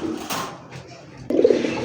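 A red Bombay pigeon coos close by, in two short throaty bursts, the second one louder, with no talk over it.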